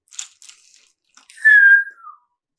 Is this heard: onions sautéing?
no